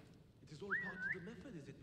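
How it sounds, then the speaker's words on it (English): A single short rising-and-falling whistle from the player character in Assassin's Creed Mirage, near and clear over quiet ambient game sound, with a voice speaking nearby. "See if I whistle what happens."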